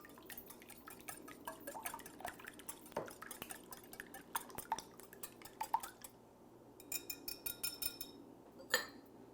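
A whisk clinks and taps against a bowl while beating eggs in a kitchen, a steady run of light metallic strokes with quieter gaps, close and alone without talk.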